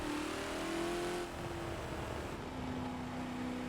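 A Ford GT40 race car in Forza on the Spa track at full throttle, a loud sustained engine roar climbing in pitch, easing briefly at a gear change, then pulling hard again.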